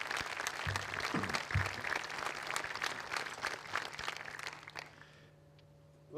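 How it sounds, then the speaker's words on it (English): An audience at a Fort Belvoir U.S. Army birthday ceremony claps for a living historian, a dense, steady round of applause that thins out and fades to near quiet over the last second. "another round of applause for Mr."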